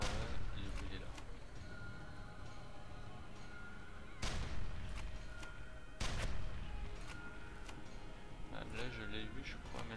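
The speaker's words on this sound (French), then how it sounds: "Il y a quelqu'un qui me tire dessus" Gunfire from the shooter game F.E.A.R. 2, with sharp broadband shots punctuating a dense, busy game mix; one bursts out at the start, then others at about four and six seconds, while a voice talks throughout.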